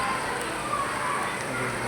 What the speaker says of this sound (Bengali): মশলাটা একটু ভুনা করে নেওয়া হচ্ছে।